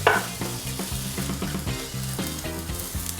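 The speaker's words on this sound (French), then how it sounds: "Je vais juste saisir toutes les faces et après on va les couper en tranches." Tataki pieces sear in a lightly oiled frying pan with a constant close sizzle, running under rhythmic background music.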